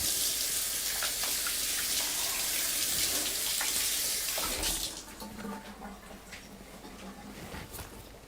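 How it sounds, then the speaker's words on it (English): A kitchen tap runs steadily as hands are washed in a sink, a loud continuous hiss of water that drops in level halfway through and keeps flowing more softly to the end. "Let me just wash up here pretty soon."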